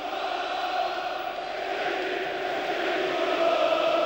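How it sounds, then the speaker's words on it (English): A football stadium crowd bellows steady support for Galatasaray during a UEFA Cup match against Hamburg, a dense continuous roar with no breaks that swells slightly toward the end. "you can hear the crowd bellowing support towards their Galatasaray side"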